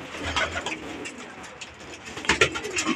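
A domestic fancy pigeon with fourteen tail feathers coos softly in a loft, its low throaty calls repeating over faint background noise, with other birds audible nearby.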